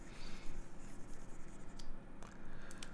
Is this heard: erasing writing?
yes